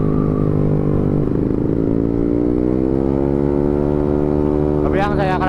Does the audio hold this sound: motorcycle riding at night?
yes